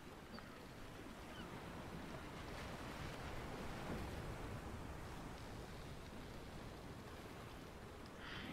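Choppy ocean waves roll and crash in a steady, continuous wash at the edge of a Roblox map's turbulent sea, with broadband surf and wind noise holding loud throughout, unbroken by speech.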